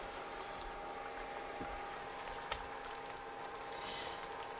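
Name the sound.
Indian taco fry bread frying in oil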